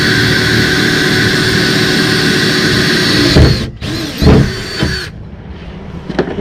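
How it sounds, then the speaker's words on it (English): A steady, loud whine of a power drill drilling a pilot hole for a bolt, running continuously, then stopping and restarting in short bursts before cutting off. "drill a pilot hole"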